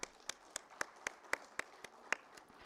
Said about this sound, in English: Let's welcome our dignitaries with huge round of applause, ladies and gentlemen.